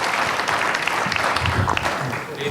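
An audience at a migration theology symposium in a church hall applauds, a steady wash of clapping from a crowd lasting the whole stretch, with a voice faintly speaking beneath it.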